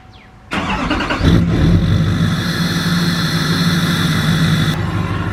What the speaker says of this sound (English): You have got to love that turbo whistle of a diesel.